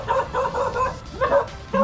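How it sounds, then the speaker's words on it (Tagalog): A dog barks in a short burst of several yips and bow-wows at moderate distance, repeated in quick succession with brief pauses, outdoors in rain. "Oh, yung aso!"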